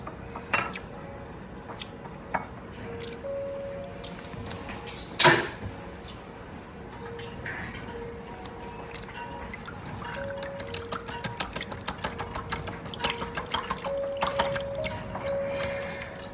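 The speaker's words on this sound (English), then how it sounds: "If you whisk it enough," A whisk beats a honey, lemon and orange solution in a bowl, producing a long run of rapid, rhythmic metallic clicking and scraping, close but moderate in loudness, quickening toward the end.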